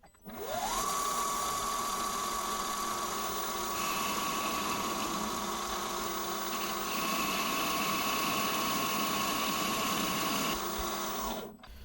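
A metal lathe takes a test cut in stainless steel held in 3D-printed soft jaws, its motor whining up to a steady high hum that holds for several seconds under a harsh cutting hiss, then winds down.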